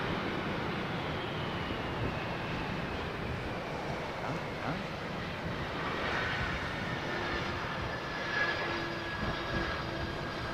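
An airliner landing at Heathrow with thrust reversers deployed, a steady broadband roar of jet engines rising slightly as the reversers spool up, heard at a distance with no talk.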